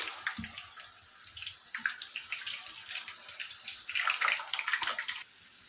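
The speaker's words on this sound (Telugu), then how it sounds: "ఇప్పుడు మనము ఈ ఆలుని ఇందులో వేసేసి గోల్డెన్ కలర్లో వచ్చేంత వరకు డీప్ ఫ్రై చేసుకోవాలి." Potatoes (aloo) deep frying in hot oil while making dum aloo, giving a steady crackling sizzle with brighter bursts of bubbling, close and continuous with no talking.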